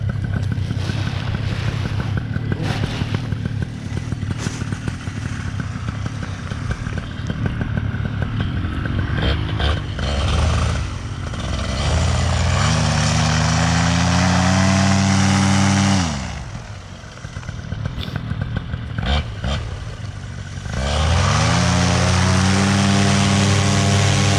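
A paramotor engine revving hard during takeoff at a balloon festival in Erie, Colorado, a loud continuous droning roar that rises and falls in pitch as the throttle changes, briefly easing before surging again.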